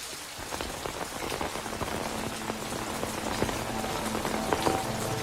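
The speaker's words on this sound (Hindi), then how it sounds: "बारिश ज्यादा है, रुकने का वेट करेंगे।" Steady heavy rain pours and patters on surfaces, a constant dense hiss with scattered drops, fairly close and without speech.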